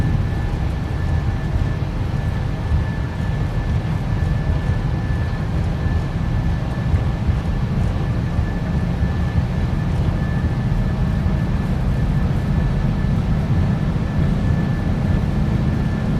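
A Boeing 737-800 in a PMDG flight simulator game has its jet engines at takeoff thrust, producing a steady, loud, broadband roar with a deep rumble that holds constant throughout.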